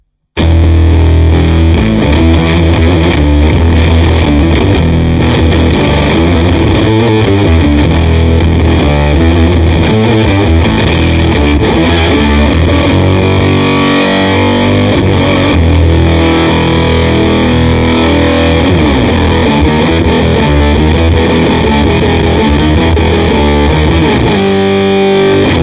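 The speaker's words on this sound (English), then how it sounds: "The sound where I use the fuzz combined with an Octavius" An electric guitar played through fuzz and an Octavius octave pedal gives a loud, thick, saturated tone with doubled octave overtones, a continuous riffing performance of dense chords and notes lasting around twenty-five seconds with no talking.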